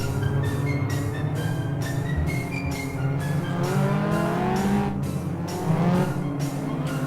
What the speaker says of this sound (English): Stock rods grand final, 20 laps, 9 cars on the track.